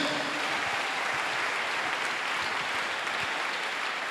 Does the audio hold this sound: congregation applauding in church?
yes